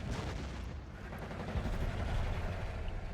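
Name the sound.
artillery fire in KARDS video game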